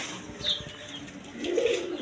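Jharna Sharting pigeons coo in soft, low throaty murmurs at close range, swelling toward the end, with faint rustling around them.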